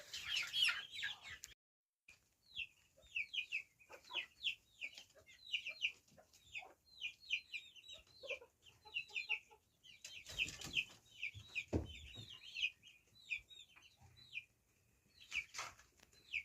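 Young chickens in a coop enclosure peep and cluck in a busy run of short, high chirps at close range, with scattered thumps and shuffling between calls.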